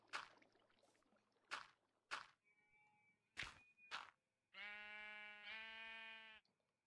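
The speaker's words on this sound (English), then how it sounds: "Yeah, that's a sheep." Sheep in the video game Minecraft: two drawn-out, nasal bleats run back to back near the end, preceded by scattered soft game thuds and clicks, with no talking.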